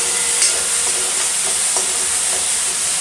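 Garlic, ginger and onion paste sizzles steadily in hot oil for dhaba-style masala bhindi, with soft scraping stir strokes breaking through the constant close frying hiss.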